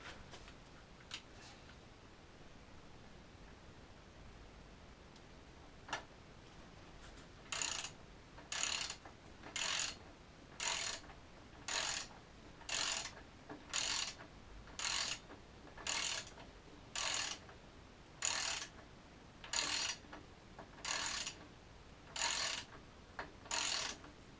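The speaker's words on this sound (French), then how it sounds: "Donc ça se visse avec une clé à douille de 30." A socket wrench with a 30 mm socket ratchets while tightening a part on a Rock Shox Pike suspension fork to 28 Nm: a few faint clicks, then about fifteen evenly spaced, crisp ratcheting strokes, close and alone.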